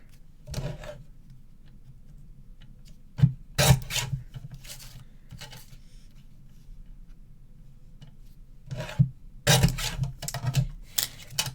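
Card paper being trimmed for an Easter card, heard as a few short rasping, scraping strokes in separate bursts against a quiet background with no talk.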